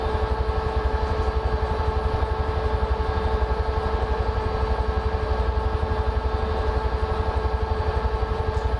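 A Huey helicopter in Microsoft Flight Simulator flies over the Mach Loop with a loud, steady rotor thump and engine drone that pulses evenly throughout, with no speech.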